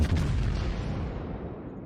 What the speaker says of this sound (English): Take my shot, note that nice and tight dispersion salvo